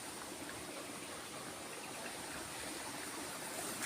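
Water pouring steadily while a durian tree is watered with a large flow, a continuous even rushing hiss with no talk.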